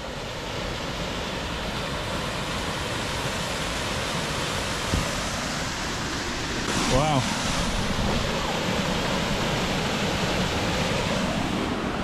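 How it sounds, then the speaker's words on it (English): A hidden waterfall at Cannock Chase gives off a steady broadband rush of falling water that stays even and fairly loud throughout. A brief faint voice-like sound appears midway. "Who knew we had waterfalls at Cannock Chase?"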